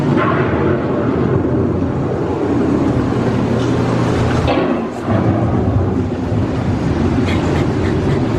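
Rumbling thunder and steady rain roll on continuously in a simulated approaching storm on Epcot's Living with the Land ride, loud and dense, with a brief dip before the rumble resumes.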